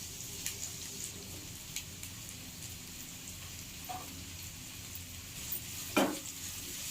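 Two medium onions frying in oil in a pan with bay leaves give a faint, steady sizzle with soft crackles, a brief louder burst near the end, and no talk.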